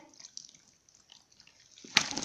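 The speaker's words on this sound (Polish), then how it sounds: "Zobaczcie, pełno wody z niej cieknie." Water patters and trickles steadily in small drips from a wet dog's fur during a bath, close by, ending with a louder splash of running water.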